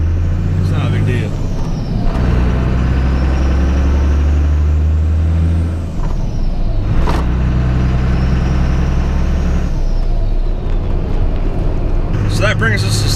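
A diesel truck drives at normal pace with its engine a loud, steady low rumble close up, rising and settling as it shifts, while someone talks over it.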